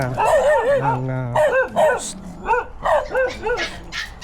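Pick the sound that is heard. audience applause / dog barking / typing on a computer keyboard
dog barking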